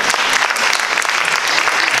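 Audience applause at a theatre season presentation: dense, steady clapping from a crowd filling the whole stretch, loud and continuous with no voices on top.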